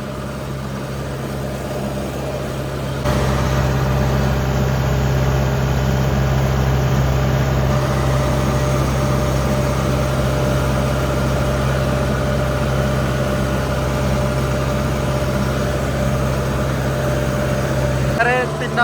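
Tractors ploughing a large farm field drone in a steady, loud, low engine rumble that barely changes and grows slightly fuller after the first few seconds.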